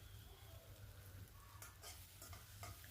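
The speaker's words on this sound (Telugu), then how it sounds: "బాగా ఫ్రై చేయండి పచ్చివాసన పోయే వరకు." Tomatoes and tamarind fry in a pan for fenugreek chutney, giving a very quiet, steady sizzle with a few soft scraping stirs near the end and no talk.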